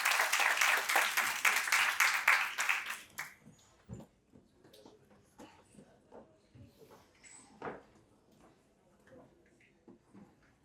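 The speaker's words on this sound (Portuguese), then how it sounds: "Por favor, uma salva de palmas para Raquel" Seminar audience in Rio's Pequena África applauding a historian and curator panelist: loud, dense clapping for about three seconds, then breaking into scattered, fading claps with a few isolated hand claps and soft room noise.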